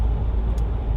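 Steady low rumble of vehicle traffic on a two-lane rural highway carrying cars in both directions, a continuous broadband road drone with no distinct single pass-by standing out, no voices.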